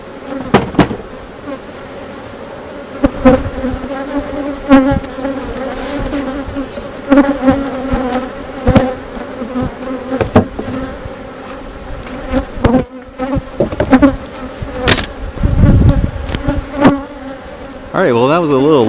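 Honey bees buzz steadily around an open hive during an inspection, a continuous droning hum with sharp knocks and clicks of tools or frames breaking through at intervals, close and fairly loud throughout.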